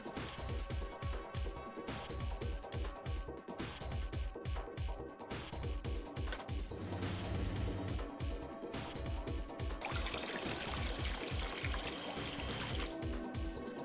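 Game water effects in Zero Escape: Virtue's Last Reward, with repeated pouring and splashing bursts in a steady rhythm, then a sustained rushing, hissing flow toward the end, all fairly loud and with no talking.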